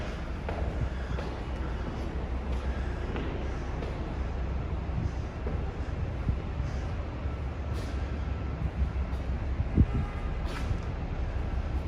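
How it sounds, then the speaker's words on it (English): A subway train rumbles continuously through a Brooklyn station, a steady loud roar with metallic clatter and a sharp clank near the end, no talk. "I love the train."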